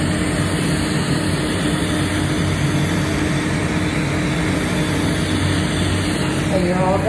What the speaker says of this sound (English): there's that little cool air blowing. I don't know if you can hear that loudness behind the camera, but that is the air, that puff of air